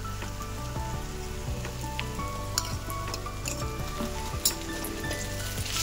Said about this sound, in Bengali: তো এখন আরেকটু ভালো করে ভাজা ভাজা করবো আর কি, লাল লাল করবো, যেহেতু এখন আদা রসুন দিয়ে দিয়েছি